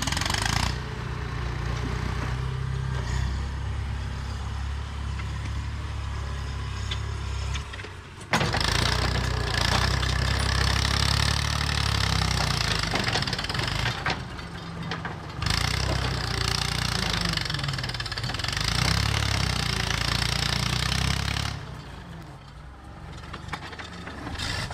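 An old Massey Ferguson MF-40 backhoe engine runs steadily and loud throughout, a low diesel drone with rough mechanical clatter, dipping briefly a few times before picking back up during yard grading work.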